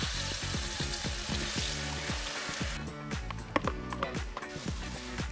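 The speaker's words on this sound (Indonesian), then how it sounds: "bumbu kelapa ini harus ditumis lebih dulu, biar lebih gurih rasanya" Coconut spice paste sautés in a pan with a quiet, continuous sizzle. Near the end there are sharper scraping and stirring knocks, and a steady rhythmic pulse plays underneath.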